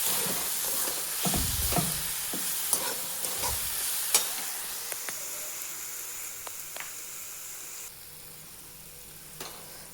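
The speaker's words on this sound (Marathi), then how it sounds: "छान घेऊयात मिक्स करून" Coconut barfi mixture with cardamom powder is stirred in a pan, a steady sizzling hiss with repeated scraping strokes of a spoon against the metal, close and fairly quiet, with no talking.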